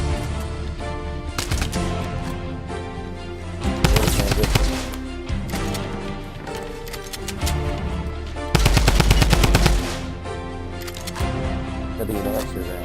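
Rapid automatic gunfire in a Fortnite 1v1 match comes in loud, dense bursts, with a long heavy volley near the start and another later, over ongoing game sounds and music.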